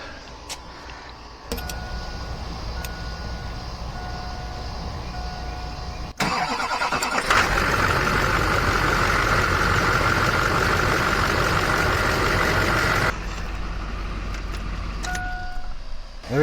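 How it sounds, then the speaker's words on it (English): Chevrolet Duramax 2500 diesel engine cranking and catching, then settling into a steady loud idle with a whining belt-driven tone after belt tensioner replacement, preceded by key and door noises. "Let's fire this thing up and make sure it tracks like it's supposed to."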